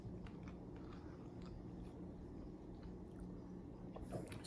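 Someone bites into a Chicken Frito Pie casserole made with chicken, tomatoes, Fritos and cheddar cheese, giving close, soft crunching and chewing over a steady low background hum.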